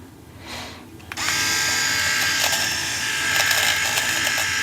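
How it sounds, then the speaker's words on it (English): A VYLTO electric nose hair trimmer runs steadily while cutting, starting after a second and holding a close, continuous buzzing whir to the end of the clip. "Let's give the nose hair trimmer a go, shall we?"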